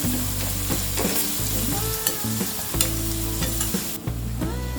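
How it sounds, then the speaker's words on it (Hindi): Two finely chopped onions fry and get stirred in a pan with cardamom for a soya chunk curry, a steady loud sizzle with repeated spatula scrapes under background music. "इसमें डालेंगे 2 प्याज, 2 अनियन को हमने फाइनली चॉप कर लिया है।"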